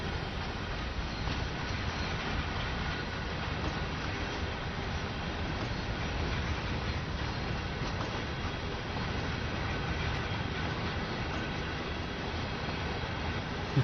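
A freight train hauling tanker wagons rolls through a snowy Rhein Ruhr Osten route in Train Sim World 3, producing a steady, unbroken rumble of wheels and wagons throughout.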